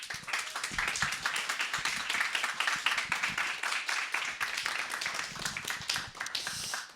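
A church college-group assembly applauds steadily, many hands clapping in a dense, continuous patter that holds for several seconds before tapering off.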